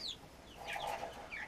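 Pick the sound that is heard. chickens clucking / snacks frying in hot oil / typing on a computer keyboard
chickens clucking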